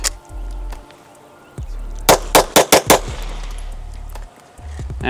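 Staccato HD P4 pistol fired right after being soaked in water: five rapid, sharp shots in a quick string against a low background hum, with no voices.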